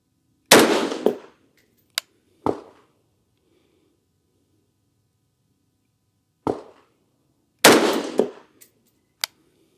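Rifle shots from a 224 Valkyrie fired down range outdoors: a few sharp, loud cracks spread across the clip, each with a short ringing tail, separated by quiet gaps and a couple of fainter clicks.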